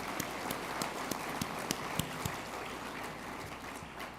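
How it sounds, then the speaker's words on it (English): Crowd clapping at a Pelican Cup 2025 awards event, a steady dense patter of many hands with a few sharper nearby claps standing out, fairly distant and moderate in level. "Now we can clap for everybody."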